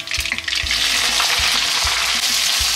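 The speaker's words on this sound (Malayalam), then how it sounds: "കടുക് പൊട്ടിയതിന് ശേഷം നമുക്ക് അരിഞ്ഞിട്ടിരിക്കുന്ന സവാള ചേർക്കാവുന്നതാണ്." Mustard seeds and chopped onion sizzle loudly in hot oil, a dense steady frying hiss punctuated by sharp popping crackles and occasional stirring scrapes, close and continuous throughout.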